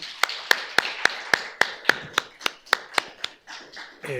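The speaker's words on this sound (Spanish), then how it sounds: "darle un muy fuerte aplauso" Clapping at a literature conversatorio: a steady, evenly spaced run of distinct claps from only a few pairs of hands, close and fairly crisp, slowing slightly and thinning out toward the end with no talk over it.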